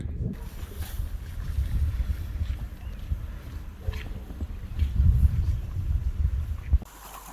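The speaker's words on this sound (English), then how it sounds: "But first, we had to paddle the fjords." Wind-buffeted kayak paddling through Patagonian fjords: steady low rumble of gusts and water, with faint splashes running close to the microphone for most of the stretch before cutting off near the end.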